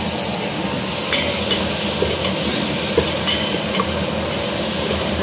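Butter and garlic sizzle steadily in a pan while sopas is being started, a loud, even frying hiss that runs without a break.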